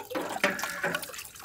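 Water is poured in short splashing bursts while homemade paneer is made in a village kitchen, a few close pours with brief gaps, no talking.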